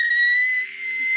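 Orca whistling in a single sustained, steady high tone lasting about a second, clear and close with no talk over it.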